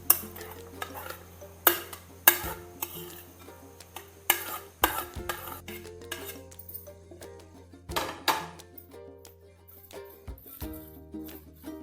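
Parippuvada batter being stirred and mixed with chopped onion, chilli, ginger, garlic and curry leaves gives a steady run of soft scraping and squelching, punctuated by sharp utensil knocks and clinks against the bowl, fairly close, with no talking.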